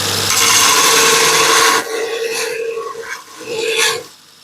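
A bowl gouge being re-profiled on a grinder, with a loud, close, harsh grinding rasp that holds steady and then comes in shorter uneven passes as the tool is rolled against the wheel.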